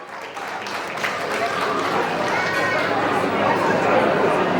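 An audience at a gathering claps together in a dense, crackling wave that builds gradually, with voices chattering underneath.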